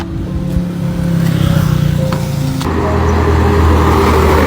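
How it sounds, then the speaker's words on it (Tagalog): A car approaches with a steady engine hum that grows fuller and louder, its tone shifting midway as it draws closer along a road. "May paparating na sasakyan!"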